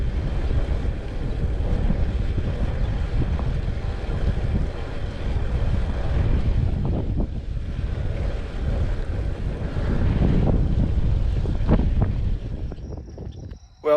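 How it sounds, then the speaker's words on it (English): Strong headwind roars across a camera mounted on a touring bicycle on an open Kansas road, a heavy, buffeting rumble that surges and dips continuously without pause. "It's going to be a very windy day."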